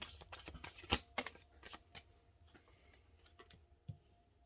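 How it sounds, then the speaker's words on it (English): A deck of tarot cards being shuffled by hand: a string of dry, papery riffles and flicks with one sharper slap near the start, close and fairly quiet. "Jeez, can't shuffle these ones today."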